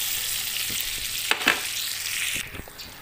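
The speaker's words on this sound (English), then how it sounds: "till the sugar melts we will go on we will go on stirring the entire thing" Butter and sugar melting in a pan while being stirred, a bright steady sizzle with a couple of scraping stirring strokes near the middle, then quieter toward the end.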